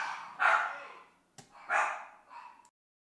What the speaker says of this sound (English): everybody's going to bark now